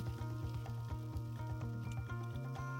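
Thai chive cakes frying in an air fryer, a steady close sizzle with faint crackle running throughout, with no talk over it.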